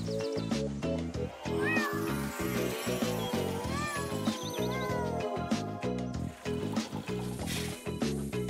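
A cartoon cat meows repeatedly in a children's educational animation, several rising and falling cries over bouncy background music.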